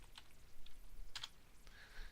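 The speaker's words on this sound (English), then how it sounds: "which I will just simulate by typing" Quick, light keystrokes on a computer keyboard at a point-of-sale station, typed in place of scanning an item's code: a few scattered clicky taps, quiet and close, with no talking.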